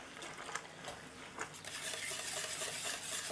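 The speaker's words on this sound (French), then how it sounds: "Et là simplement je vais mélanger jusqu'à ce que ce soit fondu" Syrup with gelatine is stirred over heat until it melts, making faint, continuous swishing with a few light utensil taps against the pot.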